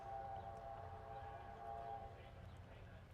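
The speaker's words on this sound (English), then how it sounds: "I don't know if you can hear the train whistle." Distant whistle of the Kettle Valley train near Penticton, a steady sustained tone for about two seconds over a low outdoor rumble, then fading.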